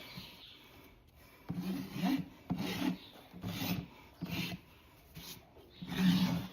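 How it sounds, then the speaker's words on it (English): A farrier's rasp roughs up a horse hoof during shoeing, producing five or six rhythmic scraping strokes with short pauses between them, close up and fairly quiet, with no talking. "I'm just gonna take the edge of the rasp and go like this"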